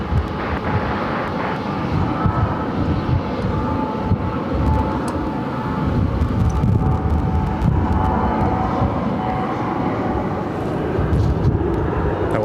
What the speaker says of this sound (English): This is Frontier Airlines flight 4578 coming in from San Diego on an A320.